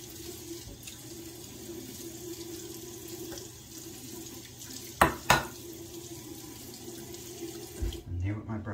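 Tap water runs steadily into a sink as a face is wetted before a shave with a Gillette 7 O'Clock razor, a continuous close hiss broken by a couple of brief splashy bursts near the end.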